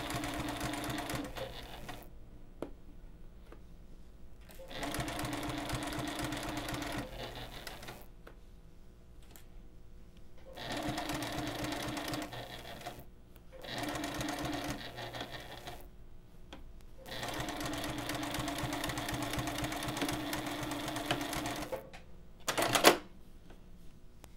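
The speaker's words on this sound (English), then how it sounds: "I'm just going to stitch about an eighth of an inch away from the edge that I folded under." A sewing machine stitches the lining of a zipper pouch in several quiet, close bursts of rapid mechanical chatter, separated by short pauses and small handling clicks near the end.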